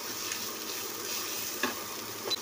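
Mixed vegetables with capsicum sauté in a pan on high flame, a continuous close sizzle and hiss with a faint stirring scrape or two.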